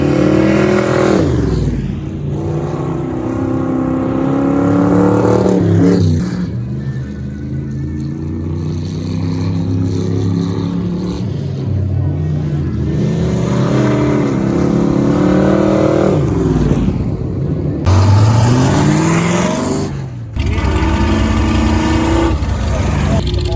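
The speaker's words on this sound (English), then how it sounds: "it's an old little rat rod, well not little, it's a big block thing that he's running" A big block engine in an old rat rod revs in long rises and falls, loud and close, with a person talking over parts of it.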